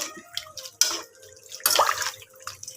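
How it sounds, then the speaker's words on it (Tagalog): Water poured into a cooking pot while preparing a fish-head dish, irregular splashing and trickling bursts close by, fairly quiet. "maglagay tayo ng tubig"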